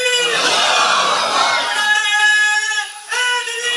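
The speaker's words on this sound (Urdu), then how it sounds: "اگر خودداری پر نوجوان نعرے لگانے لگ گئے تو پھر تو بات بن گئی" A crowd of young men at a religious sermon chanting slogans together, a loud, sustained roar of voices that holds steady and then breaks off near the end.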